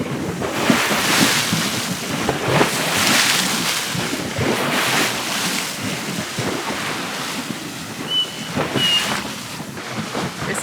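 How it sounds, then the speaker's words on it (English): Ocean waves slosh and splash against a dock on a windy day, a continuous close wash of water with heavy wind rumble on the microphone and no voices. "He hates it when the waves hit against the dock right here like this."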